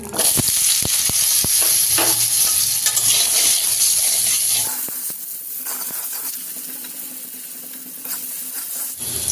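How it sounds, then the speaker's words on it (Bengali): Cut potatoes fry in hot oil in a pan, crackling loudly up close at first with sharp spatula taps, then the sizzle drops to a softer, steadier hiss for the rest. "আলুটা যে কেটে রেখেছি ফ্রাই করে নেব"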